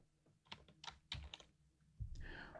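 Keys clatter on a computer keyboard in quick, irregular bursts of close, crisp clicks with short pauses between, recorded quietly and alone without any talk.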